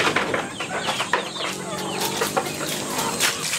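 Free-range native chickens cluck and peck while foraging outdoors among grass, a busy overlapping chorus of short clucks and calls at close range.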